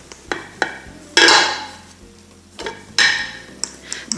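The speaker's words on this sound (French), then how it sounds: "J'étale maintenant la pâte avec mon rouleau acrylique." An acrylic rolling pin rolls out modelling paste thinly on a work surface, giving two swelling rolling swishes with light knocks and taps around them, close and alone.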